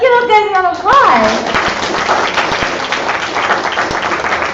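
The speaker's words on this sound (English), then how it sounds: "Let's give those guys a round of applause." An audience at an online coffee product presentation claps for a short while. The applause is a steady, moderately loud patter that starts under a voice and keeps going on its own.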